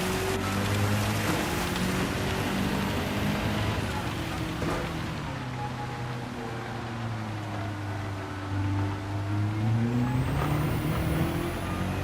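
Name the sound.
rain during a race in the video game Gran Turismo 7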